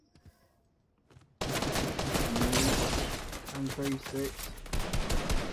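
Gunfire from a rival team in a zero-builds battle royale match: after a quiet moment, a dense burst of rapid shots erupts and keeps crackling, with a few tonal game cues and a player talking over it.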